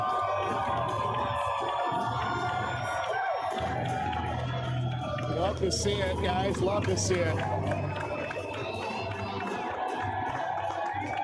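Crowd at an Independent Baseball League game, Kitchener at Chatham-Kent, cheering and applauding steadily after the first Barnstormers home run, with an announcer talking over the roar throughout.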